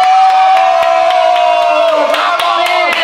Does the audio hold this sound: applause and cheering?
yes